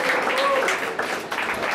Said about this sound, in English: I think we all should give her a round of applause